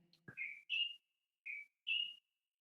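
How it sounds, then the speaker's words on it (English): A small bird sings alone outdoors: four short, clear whistled notes in two pairs, with a soft low rumble at the very start. "can you hear that little bird?"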